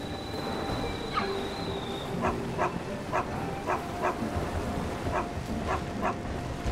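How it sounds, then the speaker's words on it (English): A dog in Zelda: Tears of the Kingdom barks repeatedly in short, evenly spaced yelps, with a whimpering whine, over a busy game soundscape of music and ambience. "I think I might have run over a dog."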